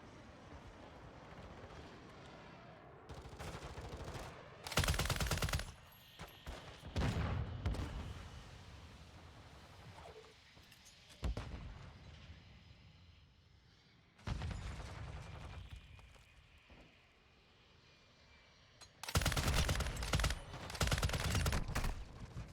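Bursts of Raal MG machine gun fire in Call of Duty MW2, several loud sustained volleys separated by quieter gaps with distant game ambience.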